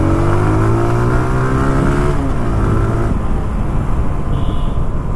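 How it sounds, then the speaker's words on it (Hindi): A TVS Apache RTR 160 2V BS3 motorcycle engine revs hard nearby, a loud raw roar that holds high, then drops in pitch as the throttle closes and settles into a rough, steady idle-like drone. "ये गाड़ी लिटरली रोर करती है कि"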